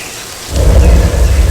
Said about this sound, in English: rain is created by an overhead sprinkler hidden from view